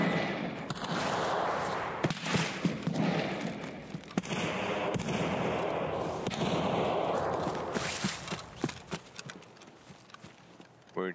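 Gunfire in the Escape From Tarkov shooter game, a string of sharp broadband cracks and bursts spread across a busy, loud mix, some shots close and punchy, others more distant.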